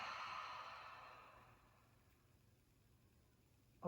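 A slow, deep belly breath during a guided hip-recovery breathing exercise, a soft airy exhale close to the ear that gradually fades into quiet.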